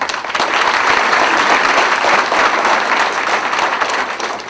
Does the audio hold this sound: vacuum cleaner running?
no